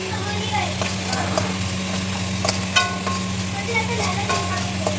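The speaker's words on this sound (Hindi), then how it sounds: "मखाने को फ्राई कर रहे हैं" Makhana (fox nuts) frying in oil in a kadhai, with a steady close sizzle throughout and occasional clicks and scrapes of a stirring spoon against the pan, all under a constant low hum.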